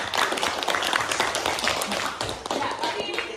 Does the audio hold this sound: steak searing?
no